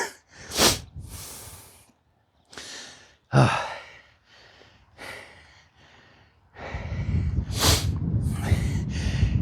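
Heavy, loud breaths after splitting wood by hand: several sharp exhales and gasping sighs with pauses between, close to the microphone, ending in a longer stretch of steady panting.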